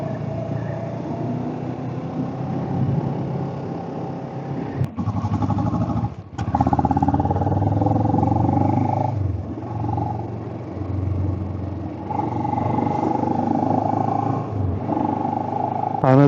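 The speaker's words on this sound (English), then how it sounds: "Also, I noticed when I'm blipping, the ninja sounds like angry." Kawasaki Ninja 650 twin-cylinder motorcycle on a solo ride through the Ghats, engine rumbling steadily with repeated throttle blips that rise sharply, close and loud, with wind buffeting and a voice talking over it.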